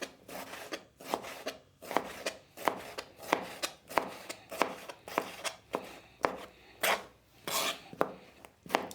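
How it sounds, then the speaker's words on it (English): A knife chops tomatoes into fine brunoise for a concasse sauce, with rapid, steady taps against a cutting board close by, about one stroke every half second with no pauses. "So I need them very finely chopped, brunoise if you like."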